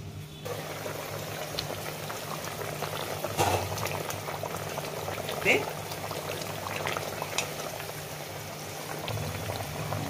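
Eggplant and hilsa fish curry bubbles steadily in a covered pot, a soft continuous simmer with faint lid rattles and a few louder pops, close by and alone.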